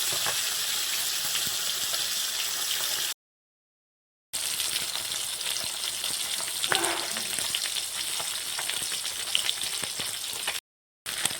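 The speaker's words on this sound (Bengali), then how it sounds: "এবারে উল্টো সাইডটা ভালো করে ভেজে নেব" Small young carp sizzle and crackle steadily in hot oil as they are flipped, a continuous bright frying hiss broken by two brief silent gaps.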